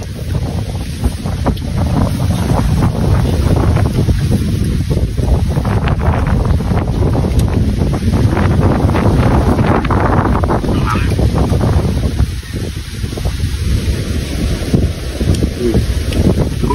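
Strong wind buffets the microphone with a constant roar, and the rush of surf blends in from a windy seashore.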